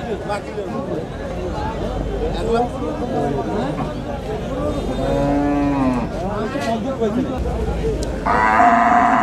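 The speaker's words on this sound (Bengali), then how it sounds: "আমাদের সামনে আরেকটি অনেক বড় ফ্রিজিয়ান ষাঁড় দেখা যাচ্ছে" A large Friesian bull at a busy cattle market lets out deep, drawn-out moos over the steady hubbub of a crowd chattering nearby.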